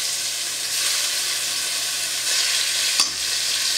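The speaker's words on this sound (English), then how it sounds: "So you can hear that nice sizzling" Steady loud sizzling of short ribs frying in a hot pan, a continuous crackling hiss with no talking.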